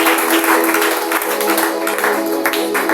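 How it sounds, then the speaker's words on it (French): A church congregation applauds and cheers in praise, a dense, sustained burst of clapping with voices mixed in and a steady tone running underneath, lasting the whole three seconds. "Une fois d'acclamation à notre Seigneur"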